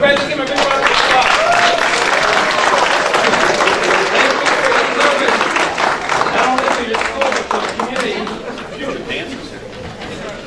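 Audience applause at a city council meeting fills the room, steady and loud throughout with dense clapping, voices chattering underneath, tapering slightly toward the end.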